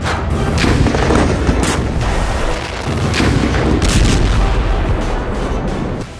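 Israeli bombardment of Gaza after a ceasefire ends: a loud, dense, continuous roar of blasts and rumbling booms that barely lets up.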